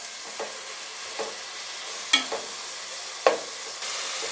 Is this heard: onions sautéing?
yes